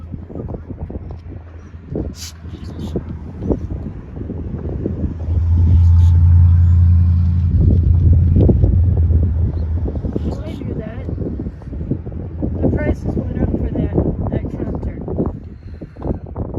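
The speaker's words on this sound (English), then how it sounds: "It is windy up here today." Gusty wind buffets the microphone with low rumbling surges, swelling loudest midway, while a person talks over it beside the flooding Mississippi River.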